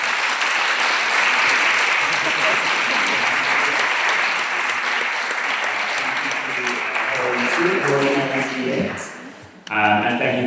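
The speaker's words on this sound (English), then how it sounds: "Round of applause for our speakers." Applause from the audience at the close of a neuroscience and learning panel discussion at Heritage School, a steady dense wash of clapping lasting about nine seconds before a voice begins talking as it fades.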